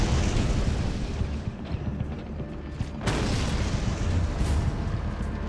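Heavy bomb blasts rumble through a desert siege in the strategy game Act of War: High Treason, a dense, continuous roar of booming explosions with a fresh burst of impact about midway, no talk over it.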